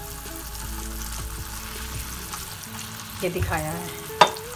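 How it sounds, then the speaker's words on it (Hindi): Minced-meat kebabs frying in a pan over a low flame, a steady soft sizzle running throughout with a few clinks and stirring scrapes near the end, and a voice speaking briefly over it. "अब इसको हमें उस वक्त तक फ्राई करना है जब तक कि ये गोल्डन से ना हो जाए।"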